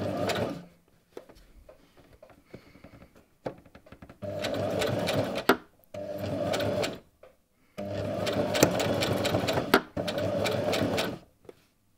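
A sewing machine stitches a round cushion in short bursts of rapid whirring, forward then reverse, separated by brief pauses with faint clicks and handling noises, close and clear.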